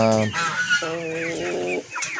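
F1 Rhode Island White and White Leghorn cross chickens clucking close by with a rooster crowing loudly over them, a brief burst of farmyard calls.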